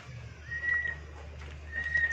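A white-rumped shama (murai batu) gives two short, clear whistled notes about a second apart, close by over a low steady hum.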